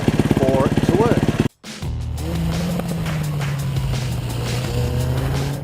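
A Yamaha WR450 motorcycle engine idles steadily and close by with a low, even drone. A short burst of talk and a brief cutout come before it.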